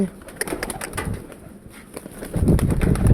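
Domestic pigeons in a pigeon loft, where two pairs sit on eggs, coo in low, soft repeated calls, with faint clicks and shuffling throughout and a fuller, louder cooing toward the end.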